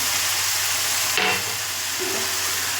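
Paste of ground mustard, green chilli and whole cumin hits a hot pan with a sudden loud sizzle burst, then settles into a steady, close frying hiss with a faint stirring scrape.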